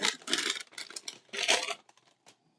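A large plastic bag of model kit parts is torn open and handled, giving bursts of crinkling and rustling with brief pauses, close by and fading toward the end.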